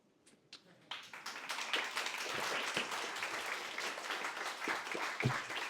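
An audience applauds after a business talk on scaling analytical capabilities, a few scattered claps swelling into steady, sustained clapping that holds for several seconds.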